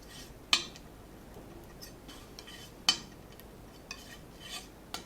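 Sky blue oil paint being mixed on a palette for a landscape sky, with a few sharp taps and scrapes of a palette knife spaced over quiet gaps, close and fairly soft.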